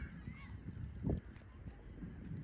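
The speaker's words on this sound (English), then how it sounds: "There's a bunch of like geese over there, the white geese." Several white geese honk in a rough, overlapping chorus at moderate distance near a lake island in Curitiba, Brazil, with one louder burst of calls partway through over outdoor background noise.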